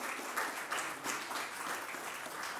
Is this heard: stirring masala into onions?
no